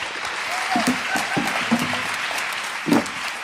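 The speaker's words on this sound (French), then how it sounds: "Vous pouvez applaudir la salle, ils ont été formidables." Steady applause from a crowd fills the room throughout, with voices faintly audible underneath the clapping.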